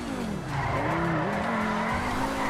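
A Lamborghini Huracan's tires skid loudly as its wheels lock in GTA 5, a continuous, wavering screech lasting a couple of seconds over a low engine drone.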